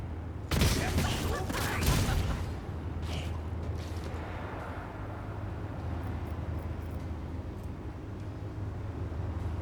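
A dense volley of gunfire from the sci-fi strategy game Warhammer 40k Rogue Trader hits hard near the start and stays loud for about two seconds, then settles into a steady low rumble of game ambience.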